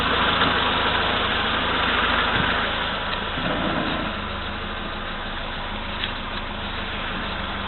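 A VAZ-2101 engine idles steadily just after its timing chain tensioner has been replaced, a continuous mid-pitched running hum with a faint mechanical ticking, heard alone at moderate level.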